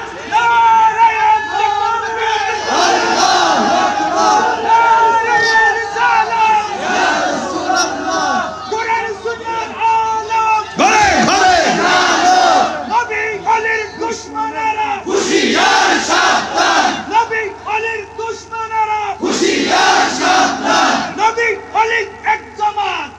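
A large crowd at a religious rally in Anwara, Chittagong, chants slogans in loud, rhythmic bursts of many voices, with a lead voice calling and the mass responding in repeated surges over about twenty seconds.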